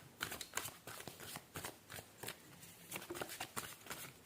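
A deck of tarot cards is shuffled and drawn by hand: close, soft, rapid riffling and flicking in uneven bursts, fairly quiet, with no talking.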